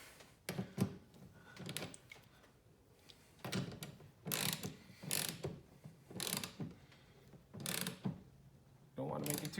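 A ratchet tightening the wiper arm nut on an Audi Q7, producing close, loud bursts of clicking repeated in several separate strokes with short pauses between them.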